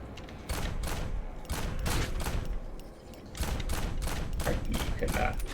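Shotgun blasts in the video game POSTAL: Brain Damaged, a series of loud, rapid bursts in quick succession with brief gaps, punchy and close.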